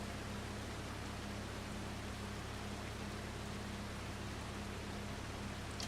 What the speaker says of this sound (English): Of course it's raining now, right?